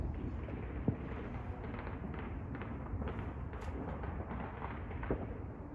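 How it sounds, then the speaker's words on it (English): Faint pops and crackles of far-off New Year's night fireworks scattered over a low, steady rumble. "That's fireworks."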